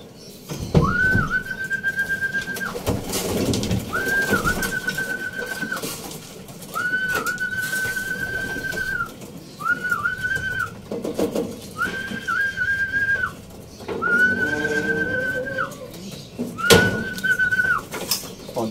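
Racing pigeons call inside a loft during race day, giving repeated clear, drawn-out whistling notes in a steady rhythm over a constant background hum, with occasional bumps and no talking.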